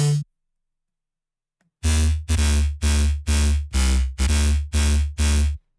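A Subtronic-style synth bass preset plays eight loud, buzzy, evenly spaced stabs after a short silence. Each is a heavy, sustained low note with a hard start and stop, with nothing else playing.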